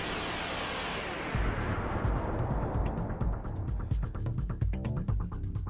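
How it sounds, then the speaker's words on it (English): Photon cannon firing in the video game Panzer Dragoon Saga: a loud sustained roaring blast that fades into a rapid series of booming impacts and crackling bursts, with no talk. "Photon cannon."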